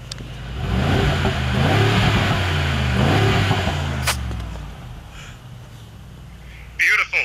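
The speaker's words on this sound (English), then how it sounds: "How good does that engine sound?" A Mercedes G63 AMG engine revs hard in Sport Plus mode with the exhaust valve opened, a loud, close, rising roar that holds for a few seconds and then fades, with a brief voice at the end.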